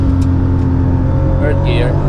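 An 800hp Toyota Supra MKIV with a ZF8 gearbox swap accelerating hard on the Nürburgring, a loud, dense engine drone heard close from inside the car, with a voice speaking over it.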